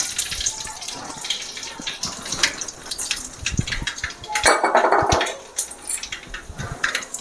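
Mustard seeds drop into hot oil in a pan: irregular, close crackling and spattering runs throughout and swells into a dense hissing burst midway.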